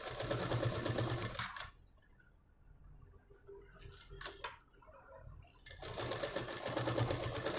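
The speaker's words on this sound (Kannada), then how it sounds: "ನೋಡಿ ಈ ಥರ ನೀಟಾಗಿ ಎಡ್ಜಿಗೆ ಆದಷ್ಟು ಎಡ್ಜಿಗೆ ನೀಟಾಗಿ ಸ್ಟಿಚ್ಚನ್ನು ಹಾಕ್ಬಿಡಿ" A sewing machine stitches close to the edge of blouse fabric, whirring loudly at the start and end, with a quieter pause in between broken by light clicks and handling noises.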